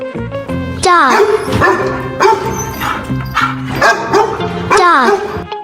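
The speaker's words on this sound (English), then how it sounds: "dog" A dog barks and yips repeatedly in quick, uneven bursts with whiny, whimpering tones, loud and close throughout, no talking over it.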